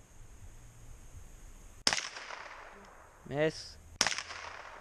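Two sharp, loud 20-gauge shotgun blasts at milk jugs, roughly two seconds apart, each ringing out briefly. A short spoken word falls between them.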